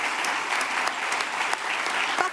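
An audience applauds at the final of a French university eloquence contest at Sorbonne Université, the clapping dense, steady and loud throughout with no pauses.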